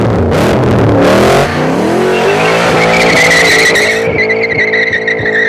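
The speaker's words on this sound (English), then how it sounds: "This car has one of the world's great engines, a big, gurgling V8 with huge torque" A powerful V8 car engine roars at speed, its pitch rising as it accelerates hard, loud and close, with no voices.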